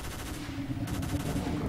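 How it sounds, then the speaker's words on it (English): Gunfire in Stalker: Call of Pripyat, Misery mod: a muffled, distant rattle of rapid shots pulses under a steady low ambient hum. "Coming from over here, the shooting."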